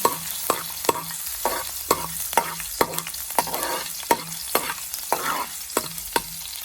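Garlic is stirred as it fries in a hot pan at home, a utensil scraping and tapping in a steady rhythm of sharp clicks over a continuous close sizzle, with no talking.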